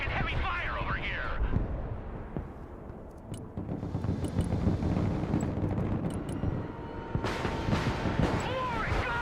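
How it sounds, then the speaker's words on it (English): In a military shooter game, a tank takes heavy gunfire and explosions, producing a dense, roaring barrage with deep rumbling blasts and sharp cracks throughout, while voices talk over the din. "Our tank is taking heavy fire over here."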